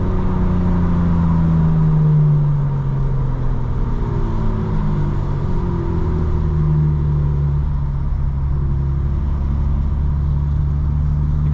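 A 900 hp 2025 BMW M4 Competition xDrive accelerating hard, its engine a loud, steady roar heard from inside the car, with rising pitch sweeps as it climbs through the gears.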